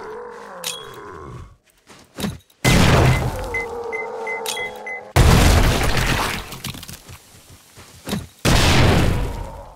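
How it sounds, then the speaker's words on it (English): Contact grenades explode in the survival game 7 Days to Die, several loud booming blasts with crackling debris that decay between sudden hits, alongside other game effects. "No, this is the explosion for sure"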